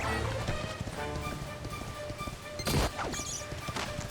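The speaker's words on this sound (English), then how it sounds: "We want to be riding on our horse on the world map as much as possible." Horse galloping across the world map in Dragon Quest XI Definitive, a steady run of hoof clip-clops under game music, with a brief louder crash or thwack as enemies are run over.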